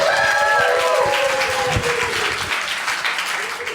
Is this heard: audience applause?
yes